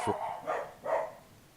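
Two dogs bark a few times nearby, three short moderately loud yaps spaced under half a second apart, heard faintly in a room.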